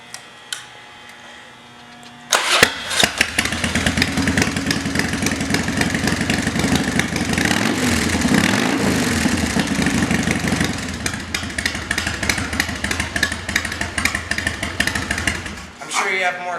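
A 2000 Harley-Davidson Dyna Wide Glide with Vance and Hines exhaust starts after a short pause, then settles into a loud, close, lumpy idle with a few blips of revving before shutting off near the end; a voice talks over it.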